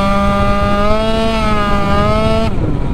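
A Yamaha Aerox scooter accelerates at quarter throttle, its engine note climbing steadily in a close, loud, whining rev before abruptly dropping off near the end.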